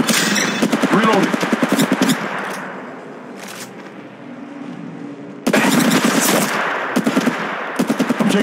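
Rapid bursts of automatic gunfire in the mobile shooter game Apex Legends Mobile, loud and close, cutting off and resuming after a quieter stretch with faint background game sounds.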